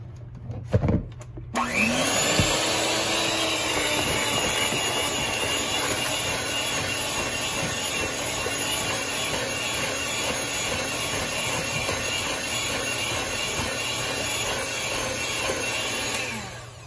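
An electric hand mixer whirs steadily through banana pudding shortcake batter, a loud continuous motor drone with slight rhythmic variation, starting after a brief clatter and running uninterrupted to the end with no talking.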